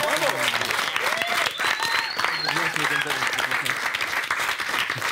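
Studio audience applause for a competing team on a French TV game show, a dense steady wash of clapping throughout while a host talks loudly over it.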